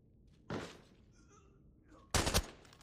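Gunfire in a shooter video game, two sharp bursts of shots about a second and a half apart, the second louder and rattling in quick succession, with faint game sounds between.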